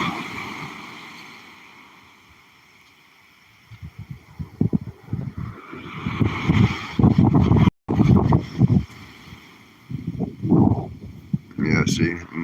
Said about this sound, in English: the more I get down here, the windier it gets